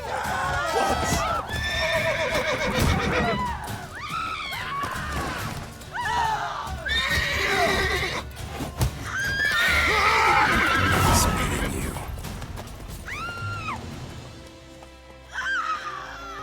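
A horse in The Witcher 3 video game whinnies and snorts repeatedly over steady clip-clopping hooves, with clashing and crashing game effects around it.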